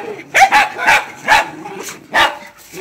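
Dogs bark close by in a quick series of about five loud barks, with short gaps between them.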